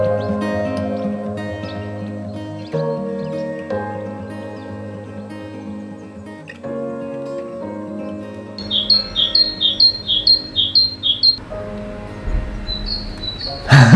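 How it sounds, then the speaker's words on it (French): Recorded song of a tit (mésange) is played back: after sustained tonal sounds, a run of quick, high repeated chirps rises clearly, then a shorter burst follows, with no voices over it. "d'entendre là et de dire ah, ok, je sais direct que c'est une mésange"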